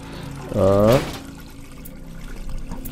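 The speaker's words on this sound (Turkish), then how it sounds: "Kanlı musluğu kapatabilirim sanırım" Bloody faucet running in the horror game Amnesia, a brief gushing pour of liquid lasting about half a second before quieter room ambience.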